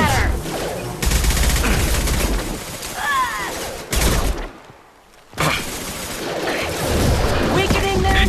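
Heavy gunfire in the Mass Effect 2 video game: dense bursts of shots and impacts fill most of the stretch, broken by a short near-silent pause, with some speech mixed in.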